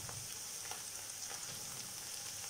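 Chopped onion and garlic fry in a pan with a steady, soft, hissing sizzle and faint scattered crackles, continuous and fairly quiet, with no voices.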